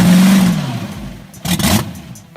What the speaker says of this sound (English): Judging by the sound of the engine as well, the old car is still able to show youngsters what speed is really like